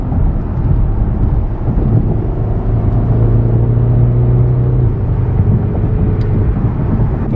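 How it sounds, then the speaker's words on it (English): Low, steady engine growl from a BMW 750i M Sport 7 Series sedan with an M Performance exhaust, droning loudly and continuously through the whole stretch with a slight swell in the middle, no voices present. "the M Performance exhaust, so it gives it a nice kind of growl"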